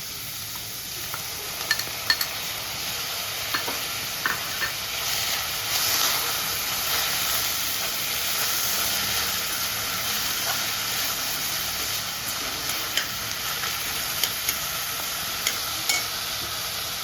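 Chopped tomatoes sizzle and hiss in a hot pan for paneer bhurji, a steady close frying sound with occasional clicks of a spatula stirring, no speech.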